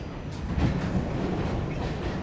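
A New York subway W train runs with a loud, steady low rumble of wheels and carriage noise and faint rattles in a continuous roar, with no talking.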